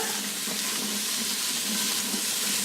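Onion, celery and carrots sauté in an Instant Pot, a dense, steady close sizzle with stirring mixed in, continuous and loud throughout, no voices.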